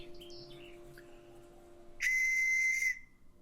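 A homemade whistle fashioned from a spent bullet cartridge case, primer removed and soldered, gives one steady sustained tone lasting about a second, loud and close, alone after a quiet lead-in.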